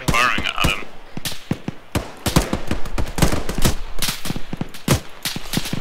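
Dense gunfire from friendly troops shooting at enemy contacts in a military game operation, a rapid stream of close and distant shots in irregular bursts, with a voice briefly heard over it.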